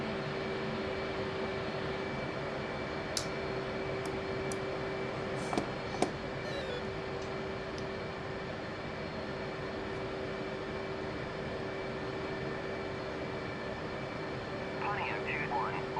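An F/A-18 Hornet jet engine warming up in the flight simulator DCS gives a constant low whine and hum, with a few brief cockpit clicks and switch sounds over the drone.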